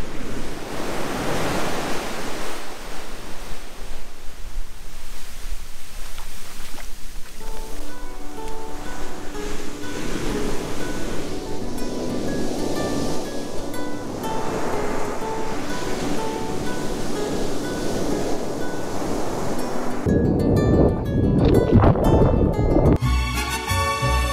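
Waves wash onto an empty beach in Baja California, Mexico, in a continuous rushing roar with wind, and a brighter, choppier sound takes over in the last few seconds.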